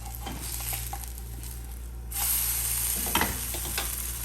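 Bread and egg snack frying in a pan, steady close sizzle with a scrape of the pan as it is flipped partway through, then continued frying.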